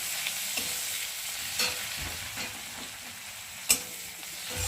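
Onions with black cumin frying in a pan, a steady moderate sizzle with several short scraping stirs of a spoon, close by and alone without talk.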